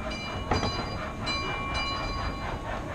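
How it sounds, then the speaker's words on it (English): A passing train carries along at a steady rumble with faint rhythmic clatter and a thin high tone, heard at moderate distance and constant through the moment, with no talk over it. "Is there a train?"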